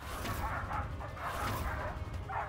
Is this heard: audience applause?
no